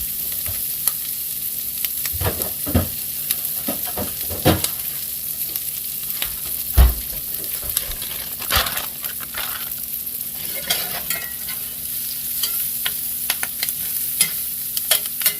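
Greens wilt in a hot pan with a steady sizzle, and a utensil stirs and scrapes the pan in sharp, irregular clacks. The cooking is heard up close with no talking.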